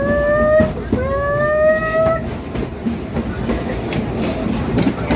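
An amusement park ride train rolls along with a rumbling, rattling clatter, while a descending whistle-like squeal sounds in short repeated bursts near the start before fading into steady rolling noise.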